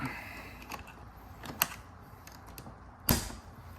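An old door lock clip is prised out of the door of a 1999 Holden VS V8 ute, giving faint creaks and small plastic clicks with one sharp snap near the end, quiet and close.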